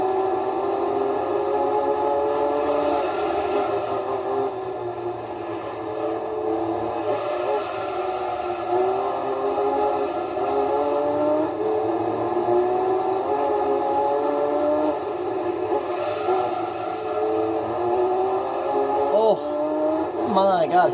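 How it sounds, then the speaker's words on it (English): A race car in Gran Turismo 3 accelerates out of a corner during a two-hour endurance race at Trial Mountain, its engine a steady, loud droning whine that climbs slowly in pitch throughout. "hear the torque on that as we accelerated out of that corner?"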